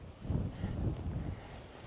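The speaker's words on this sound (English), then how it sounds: "A little bit of a windy day." Wind gusts buffet the microphone in low, rumbling bursts that swell and fade over a soft, breathy background, outdoors on lava rock in Utah's Wah Wah Mountains in October.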